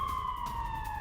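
An emergency siren sounds as a steady, slowly falling electronic tone over a low background rumble, loud and continuous during a Hindi news broadcast about Chinese jets and warships near Taiwan.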